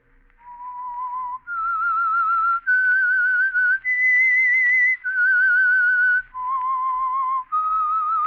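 A solo whistled melody, the signal theme of the radio mystery program The Whistler, with about seven clear sustained notes stepping up and down in pitch, loud and alone.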